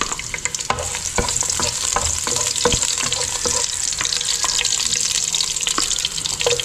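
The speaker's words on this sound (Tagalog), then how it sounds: "Umpisahan na po natin ang pagluluto, igigisa na po natin ang bawang." Garlic sautéing in a hot pan, a steady bright sizzle with repeated scraping and stirring strokes of a utensil running continuously, close and fairly loud with no talk.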